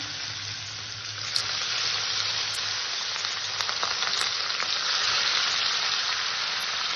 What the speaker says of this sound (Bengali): তেলটা গরম হয়ে গেছে, আমি একটা একটা করে মাছ দিয়ে দিচ্ছি।